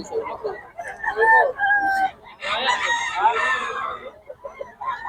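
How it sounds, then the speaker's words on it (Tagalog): A rooster crows in a drawn-out, wavering call at a chicken market in Bocaue, with other birds and background voices mixed in around it. "Ang mura mga manok ni Boss Jack"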